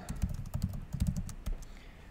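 Rapid typing on a computer keyboard while filling in a web form, a close run of irregular key clicks and clacks in short bursts with brief pauses, no talking.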